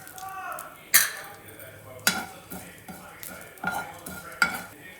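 Fenugreek, mustard and cumin seeds fry in a hot kadai with a soft sizzle, broken by sharp metal clinks and scrapes from a spoon against the pan at irregular intervals.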